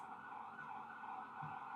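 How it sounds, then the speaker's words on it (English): A steady wailing emergency vehicle siren sounds throughout as it passes, continuous and moderately loud, with a low engine rumble beneath and no voices. "Let those sirens pass."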